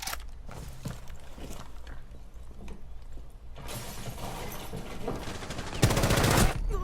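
Gunfire in the video game Rainbow Six Siege: bursts of rapid shots and mechanical clatter, loudest in a dense volley near the end, with muffled game sounds between.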